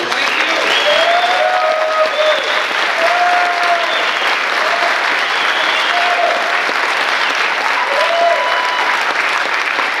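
Audience applause at a Q&A session, a steady, sustained clapping from a crowd that holds at an even level, with faint voices calling out over it.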